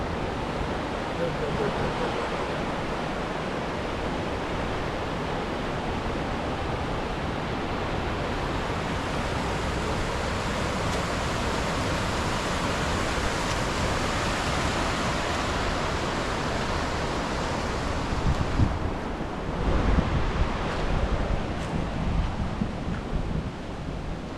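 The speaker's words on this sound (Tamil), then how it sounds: "சூப்பர் ஃபால்ஸில் இது. ஐயோ செம்ம எவ்வளோ ஸ்பீடுப்பா." Rushing water at Super Falls on the Valparai–Athirapally route, a dense, steady roar that fills the whole clip and swells a little louder near the end.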